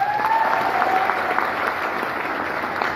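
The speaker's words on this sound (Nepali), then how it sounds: "जोरदार ताली" Loud applause from an audience at a leadership training session, dense clapping filling the whole stretch with no talk over it.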